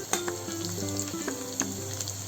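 Garlic frying in a spoonful of hot oil along with mustard seeds and cumin, with a continuous loud sizzle, small crackling pops and light stirring close by.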